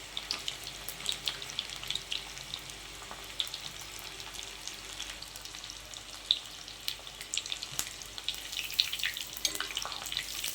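Food sizzles and crackles steadily in a modest amount of hot oil in a pan, small pieces fried a few at a time, with dense bright popping and occasional sharper spits, close and continuous with no voices.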